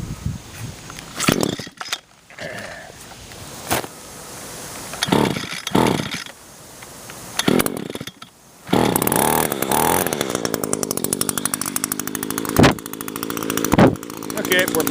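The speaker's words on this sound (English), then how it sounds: "So we'll go ahead and fire this thing up here for you." Echo SRM 225 string trimmer being started with short pull bursts and brief talk in between, then its small two-stroke engine catches and runs steadily and loudly near the microphone.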